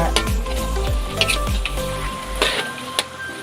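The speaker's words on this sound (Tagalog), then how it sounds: "haluin po natin siya ng bagya" Chicken frying in a pan with oyster sauce is stirred, giving a loud, close sizzle with repeated spatula scrapes and clinks that ease off toward the end.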